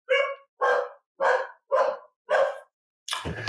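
Dog barking indoors, five evenly spaced loud close barks in a steady rhythm, followed by a burst of noise at the end.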